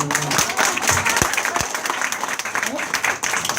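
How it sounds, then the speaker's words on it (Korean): An audience at a Korean business recruiting lecture breaks into applause, a steady crowd of clapping hands with a few sharp nearby claps standing out and voices mingling underneath. "박수 한번 쳐야지."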